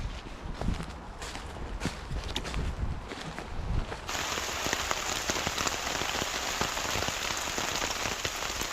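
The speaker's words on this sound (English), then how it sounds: "now we've had this big downpour" Heavy rain pours down steadily on a woodland campsite by the water, a dense continuous hiss of drops drumming on surfaces, growing even louder and fuller partway through.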